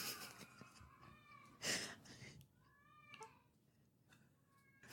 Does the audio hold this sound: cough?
no